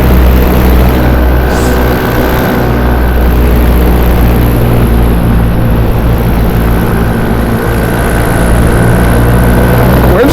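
Loud, steady drone of a light aircraft's newer engine on a cross-country flight, an unbroken propeller hum heard from inside the cabin with no break or change throughout.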